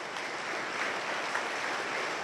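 Applause fills a church congregation during a Tagalog sermon, a steady wash of many hands clapping at moderate distance, with no talking over it.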